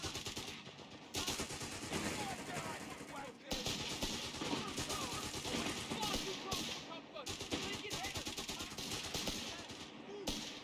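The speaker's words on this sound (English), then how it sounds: "They've opened fire on us." Dense, continuous gunfire and machine-gun bursts from a Company of Heroes 3 battle rattle on for the whole stretch, loud and close, with brief lulls and faint voices mixed underneath.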